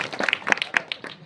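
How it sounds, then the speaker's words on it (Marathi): Audience members at a kirtan clap their hands in quick, sharp, rhythmic claps, several people together at close range. "इथं टाळ्या वाजवा म्हणा जीव तोडून भजन म्हणा टाळ्या फुटून वाजवा ना"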